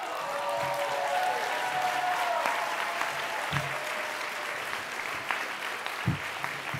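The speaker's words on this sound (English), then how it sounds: "he deserves a round of applause." Applause from an audience of about 700 at an awards ceremony, a steady moderately loud clapping wash with a few sharper individual claps standing out, and some faint background voices.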